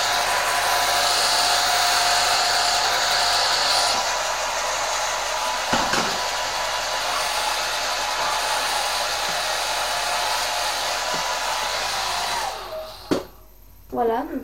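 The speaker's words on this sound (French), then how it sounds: "je vais maintenant prendre mon sèche-cheveux" A handheld hair dryer blows steadily on hair at close range, a continuous loud whoosh lasting most of the stretch before it cuts off near the end, with a few brief handling noises after.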